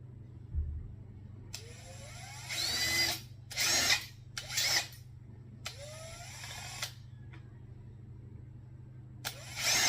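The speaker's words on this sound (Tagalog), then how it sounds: "So, meron ako ditong drill. So, bubutasin natin siya." Power drill boring a hole through the front of a homemade plunger toy gun, several separate whirring bursts that rise in pitch and stop, loud against a low steady hum.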